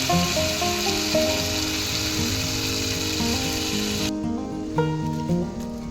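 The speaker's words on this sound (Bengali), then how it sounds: "এটাকে এবার জল ঢেলে দেবো" Water poured into a pan of frying fish curry with taro raises a loud, steady hissing sizzle over background music, cutting off sharply partway through while the music continues.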